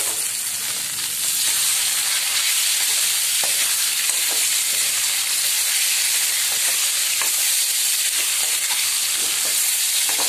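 Tomatoes sizzle and fry in a pan with onions while being stirred, giving a loud, steady hiss with scattered scraping clicks from the spoon, with no voices.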